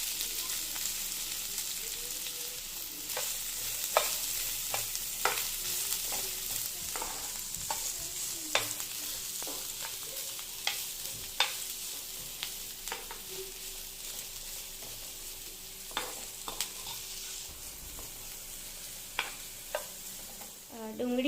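Finely chopped onion sautés in a pan for masala oats, with a continuous soft sizzle and frequent scraping clicks of a spoon stirring, close up.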